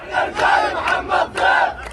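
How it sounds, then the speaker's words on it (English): A large crowd in the Jenin refugee camp in the West Bank chants loudly in celebration, the massed voices rising and falling in a steady rhythmic cadence that fills the space. "celebrations at what Hamas had achieved so quickly"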